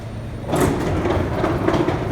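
Loud, steady rumble of a Manhattan-bound A local New York subway train with a hiss of doors, up close and continuous, with no voices.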